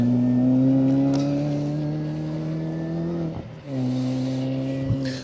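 Rally car from the Greystoke Stages, a Proctor's Coaches R50 entry, engine droning at high revs with strong steady harmonics, a brief dip around a gearchange, then pulling hard again, close and loud.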